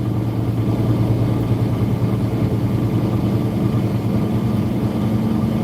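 A big truck's heavy diesel engine runs steadily at idle, a loud, continuous low rumble with a constant drone that holds unchanged from start to finish, with no voices over it.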